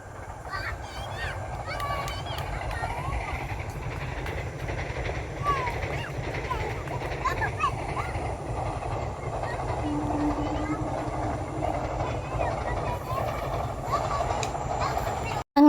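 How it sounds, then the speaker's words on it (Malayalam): A train rolls past with a continuous rumbling, clattering roar and occasional squeals, steady and fairly loud, with voices faintly beneath it. "ഇപ്പോൾ ട്രെയിൻ വരാനായിട്ടോ ഇപ്പോൾ വരും"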